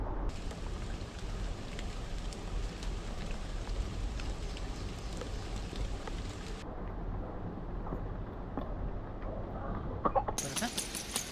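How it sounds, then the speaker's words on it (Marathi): Steady rain falls beside a riverside, a soft, even patter that continues throughout, quiet and diffuse with no voices over it. "पाऊस तर अजून पण उघडलेला नाही"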